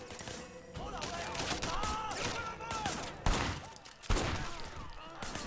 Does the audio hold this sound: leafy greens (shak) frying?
no